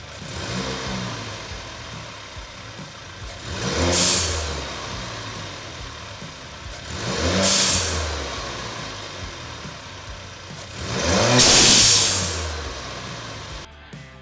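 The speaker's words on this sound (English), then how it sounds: "the opening of the valve will vent to atmosphere, giving us that awesome turbo sound." A Camaro 2.0T with a Turbosmart diverter valve venting to atmosphere gives three loud, bright whooshing bursts of turbo release, each following a rise in engine note, spaced a few seconds apart over steady engine rumble.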